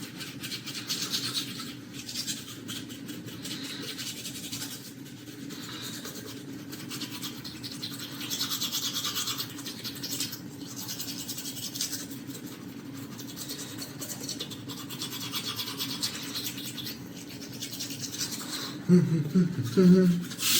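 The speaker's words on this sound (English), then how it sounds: "It's the teeth brushing time." Teeth brushed with a cheap manual toothbrush and Sensodyne multi-care toothpaste, a steady close scrubbing rasp running throughout, louder toward the end.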